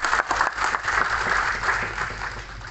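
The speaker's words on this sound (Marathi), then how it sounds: "पर खूप जोराने टाळ्या वाजवल्या" Audience clapping at a book launch event for a Gor Banjara dialect to standard Marathi workbook, a moderately loud burst of applause that gradually thins and fades.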